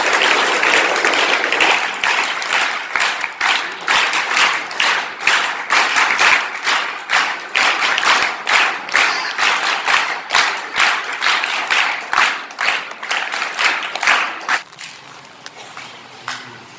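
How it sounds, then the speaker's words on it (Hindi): Schoolgirls clap in welcome at a school event for a visiting police official, a steady burst of applause from a sizeable group that runs for most of the span before thinning to a few scattered claps near the end. "स्वागत करते हुए तालियां बजाइए बेटे"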